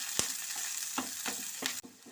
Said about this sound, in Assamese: পিঁয়াজ আৰু কেঁচা জলকীয়া দিছোঁ